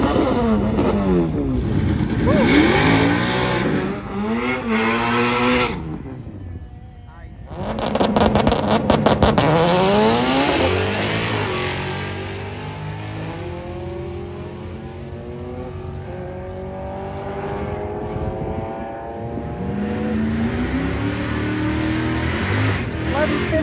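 A little Honda Civic makes a drag racing pass at a test and tune session, its engine revving hard and climbing through repeated rising sweeps with gear changes, loud and close, with a sharp burst midway before settling into a steady drone.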